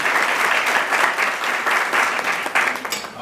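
An indoor audience at a Woman of the Year award ceremony breaks into sustained, even clapping that fills the room, with no voices rising above it.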